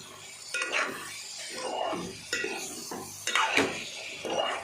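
Egg curry is stirred slowly in a pan, a quiet, close series of soft spoon scrapes and metal clinks arriving in uneven strokes over a faint simmer.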